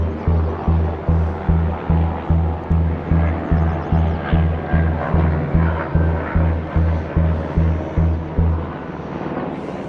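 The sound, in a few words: helicopter flying overhead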